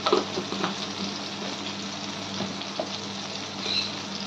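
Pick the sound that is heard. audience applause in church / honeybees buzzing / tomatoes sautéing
tomatoes sautéing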